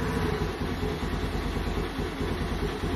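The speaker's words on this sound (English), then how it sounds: "You can definitely hear the intake though." A 2022 Honda Navi scooter with a newly installed intake idles on full choke in very cold weather. The engine gives a steady, close, low putter with a throaty intake note and no voices.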